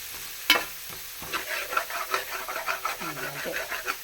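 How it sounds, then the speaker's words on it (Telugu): Onions and green chilies fry in a pan for a jackfruit seed curry, a soft sizzle with stirring scrapes and a sharp clank near the start, under faint background voice sounds. "ఆనియన్ పచ్చిమిర్చి ఇప్పుడు వీటిని బాగా వేయించుకుందాం"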